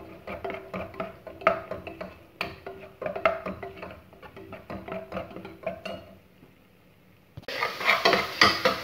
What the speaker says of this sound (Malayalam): നന്നായിട്ട് ഇളക്കിയിട്ട്